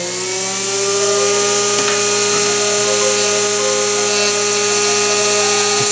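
A mini magnetic window motor energizer spins steadily at high speed while charging a battery, giving a loud continuous whine with stacked steady tones and a faint rubbing scrape underneath, alone with no talk.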